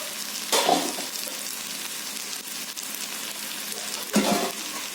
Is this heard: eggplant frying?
yes